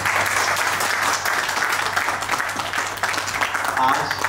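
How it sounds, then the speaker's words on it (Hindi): Applause from a limited audience at a lifeguard and fire-worker honouring event in Delhi, strong continuous clapping that stays loud throughout, with a brief voice near the end. "हम जोरदार तालियां बजाते हैं हर उस फायर कर्मी के लिए जो समाज में हमें सुरक्षित रखता है"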